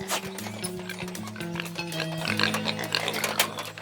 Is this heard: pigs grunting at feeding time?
yes